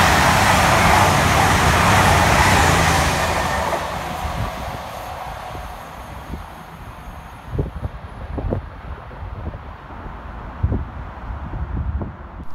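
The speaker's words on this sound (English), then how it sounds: "Next up to fly through the station for East Midlands Railway is 222002, working 1 Delta 61 from London St Pancras through to Nottingham." East Midlands Railway unit 222002 races through Hendon station, a loud rushing roar up close that fades over several seconds, leaving quieter rail clatter and distant background rumble.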